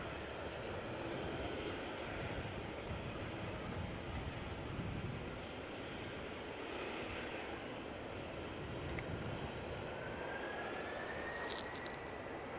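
An airliner departs Edinburgh Airport in a storm, its engine roar blended into a steady, distant wash of wind and rain noise, with a faint rising whine near the end.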